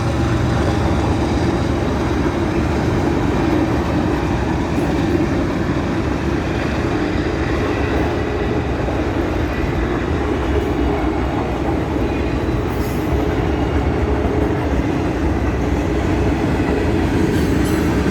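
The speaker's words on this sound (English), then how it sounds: "And here comes the train." A train rolls past close by, a steady loud rumble and rattle of railcars on the tracks, with no talking over it.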